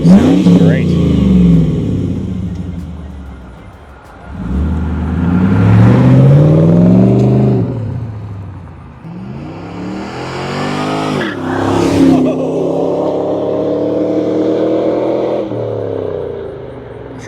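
A 1999 Pontiac Trans Am accelerates hard past the listener, its loud V8 roar rising through the gears and sweeping from near to far, with a second surge of revving and tire squeal; people talk over the engine noise.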